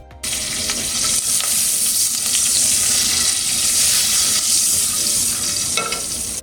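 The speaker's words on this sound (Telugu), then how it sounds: "నూనె కాగాక ఆవాలు, జీలకర్ర, పసుపు, ఎండుమిరపకాయలు, కరివేపాకు వేయండి." Mustard seeds, cumin, turmeric, dried red chillies and curry leaves hit hot oil, bursting into a loud, continuous close sizzle with crackling pops that holds steady and cuts off abruptly at the end.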